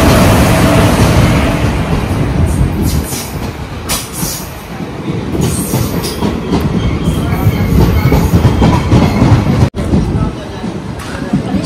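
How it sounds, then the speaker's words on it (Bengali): A train pulls into a crowded station, its loud continuous rumble and clattering wheels filling the scene close by, with bright metallic squeals and a busy background of platform noise. "ট্রেনও চলে এলো।"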